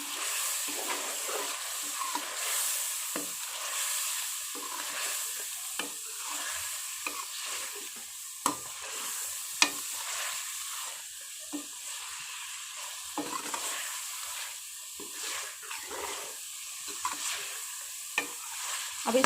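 A spoon stirs coriander powder into aloo chicken curry frying in a pan, giving a steady close sizzle with repeated scraping and clinking strokes throughout and no talking.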